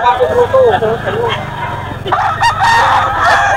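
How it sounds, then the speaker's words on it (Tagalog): At a crowded chicken market with hundreds of birds, several roosters crow loudly and hens cluck over a steady din, with a dog barking and people talking in the background. "Daming manok ngayon dito sa Grotto."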